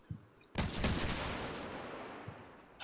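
Bradley fighting vehicles fire on buildings in Combat Mission Shock Force 2, a brief thump followed by a loud sustained roar of gunfire and rumbling impacts that slowly fades, with another sharp burst at the end.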